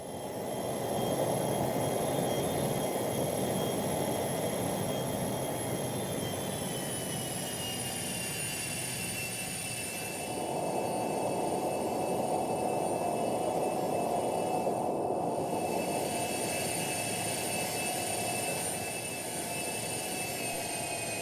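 Simulated Cessna Citation 560XL jet engines, recorded from real aircraft, hold a loud continuous whine with a steady roar beneath, the high tones sliding slightly as the listening position shifts, with brief dips in level.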